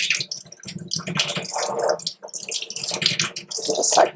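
Hot tap water runs and splashes over turkey quills during a rinse, a steady broadband rush with uneven surges and spatters that carries on close-up for a few seconds.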